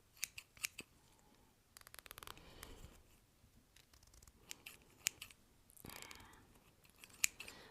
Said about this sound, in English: Pull those forward and snip.